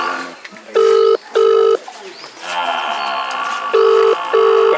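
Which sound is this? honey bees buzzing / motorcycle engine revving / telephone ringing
telephone ringing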